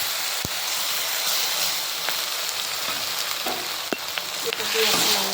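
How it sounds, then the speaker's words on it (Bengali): Ginger-garlic paste and spice mix sizzle and fry steadily in a pan, a continuous close hiss with occasional sharper pops and stirring clicks, no voices. "এটা দিয়ে একটা লাল লাল করে ভেজে নেবো মশলাটা।"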